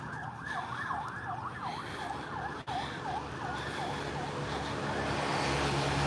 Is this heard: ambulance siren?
yes